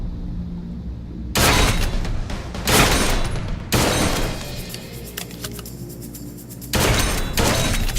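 Bursts of gunfire from the Blue Estate video game, heavy loud volleys starting around one second in, breaking off briefly and returning in several dense bursts with rumbling low end, no talk.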